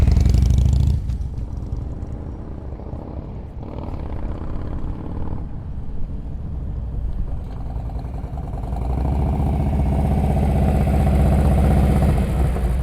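A motorcycle ridden at slow speed during an advanced slow-speed riding practice session in Ohio, its engine idling and puttering nearby, dipping after a louder start and then rising again toward the end as the throttle opens.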